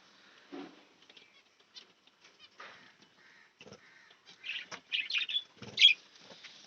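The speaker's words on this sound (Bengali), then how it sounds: "আর ফিঞ্চ গুলো তো ঠুকরে ঠুকরে সব খেতে শুরু করে দিয়েছে" Pet budgies and finches in a cage flutter and peck at fruit and food, giving scattered soft wing flaps, taps and short chirps that grow busier toward the end, with no talk.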